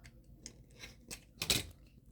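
A few faint, close snips of scissors trimming the fabric corner of a lined eyeglass case, soft crisp cuts spaced about a third of a second apart, the last one the sharpest.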